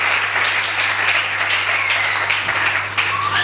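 Church congregation applauding and cheering, a dense, steady wash of clapping close and loud throughout, with a low hum underneath and no speech.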